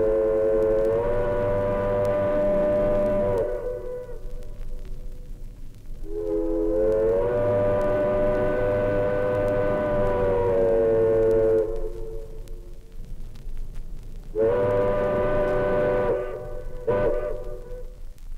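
A historic steamship whistle on the bay, one now preserved by the Mariners Museum at Newport News, sounds three loud, steady blasts: a short one, a long sustained one, then a shorter final blast with a brief trailing toot, without any talk.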